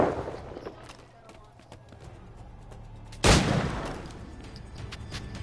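A single sharp pistol shot cracks loudly in Assassin's Creed Black Flag, standing out over a low ambient battle backdrop with faint scattered pops.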